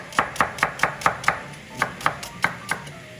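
Knife chopping a leek stalk on a cutting board: a steady run of about a dozen crisp, evenly spaced chops, close and clear, with a short pause midway.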